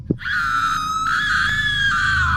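A woman screams for help, one piercing, sustained high-pitched cry lasting about two seconds, loud and close, with no other sounds around it.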